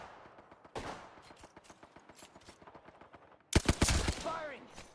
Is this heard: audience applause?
no